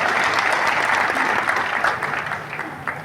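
A large crowd at an outdoor political rally in Beohari claps loudly and steadily, a dense continuous wash of applause with a few louder individual claps near the end.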